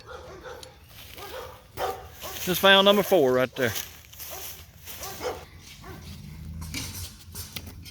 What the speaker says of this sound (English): I hope these dogs don't get me while I'm trying to do this.